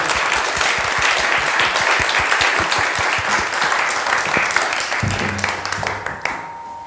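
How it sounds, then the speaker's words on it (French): Audience applause at a talk in Cluny, loud dense clapping from a full room that keeps an even pace for about five seconds, then thins out and fades, with a faint murmur as it dies. "Alors on peut déjà l'applaudir."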